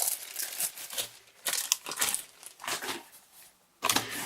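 A plastic bag around a PlayStation Classic mini console crinkles in several bursts, close and fairly loud, with short quiet gaps between the handling sounds.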